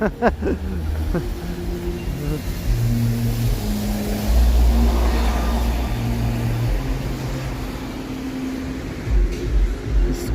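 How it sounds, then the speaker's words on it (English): A very loud car passes close by on a busy city street at Yonge and Eglinton in Toronto, its low engine roar building to a peak midway and then fading, with traffic noise around it. "This car is ridiculously loud."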